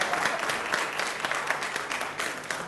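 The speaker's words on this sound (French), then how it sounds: "On peut les applaudir quand même." A studio audience at an after-work TV show applauds the presenters, a fairly soft but lively spatter of many hands with a few sharper individual claps standing out, with no speech over it.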